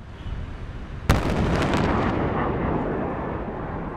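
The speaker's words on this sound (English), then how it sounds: "sonic booms are the most disturbing part of the current Israeli military campaign here." A sudden, loud boom from military jets over Gaza cracks out and rolls into a long rumbling roar that slowly fades, heard alone without talking.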